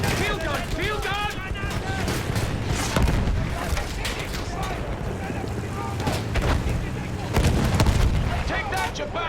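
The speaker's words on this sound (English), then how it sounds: "Field gun! Field gun!" Heavy booms and gunfire from a field gun firing in a desert battle, repeated blasts rolling through dense noise with shouting voices over them.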